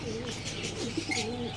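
Several soft, low cooing calls from pigeons, rolling and overlapping close by, with faint chirps in the background.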